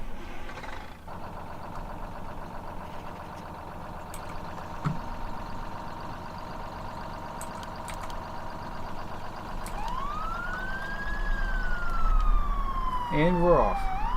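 Rescue truck siren in Farming Simulator 17, a long wailing tone sweeping up and down over a running truck engine, growing louder toward the end with faint talk beneath.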